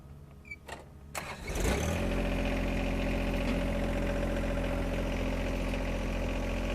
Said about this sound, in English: If I start the tractor up,